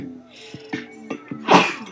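A single close sneeze bursts out near the end after a few short vocal sounds, loud and abrupt in a quiet indoor room.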